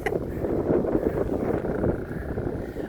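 Strong wind sweeps across a riverwalk in Valenzuela City, producing a continuous low, buffeting roar against the microphone, steady and fairly loud, with no voices heard.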